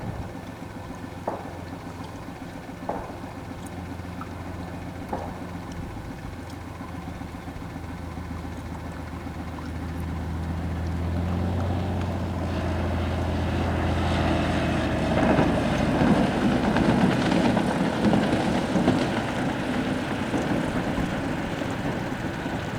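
A floatplane on floats takes off from water, its propeller engine droning steadily from a distance and then swelling louder and rougher as power comes up for the takeoff run.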